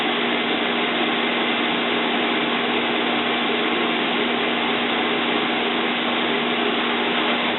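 A lit Iso camping stove being blown into, producing a loud continuous roaring rush with a faint steady hum beneath it that never lets up.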